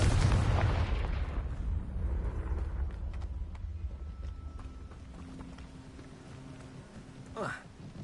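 A Confringo spell explosion in the Hogwarts Legacy video game: a loud, booming blast at the start that rumbles and slowly decays into a quieter background, with a brief whooshing swell near the end.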